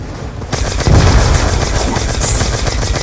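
Gunfire in the Call of Duty zombies map Origins: a sustained, dense barrage of rattling automatic shots and deep booms, loud and continuous throughout.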